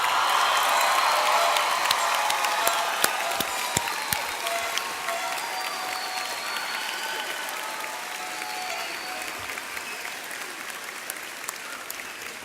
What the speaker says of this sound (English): Please give them one more loud round of applause.